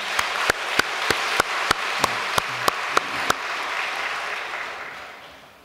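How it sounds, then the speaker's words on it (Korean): Audience applause at a church gathering, starting with about a dozen loud, evenly spaced claps over a bed of clapping, then a steady wash of applause that fades away toward the end. "박보희 총재님께 다시 한번 큰 박수 보내 올리겠습니다."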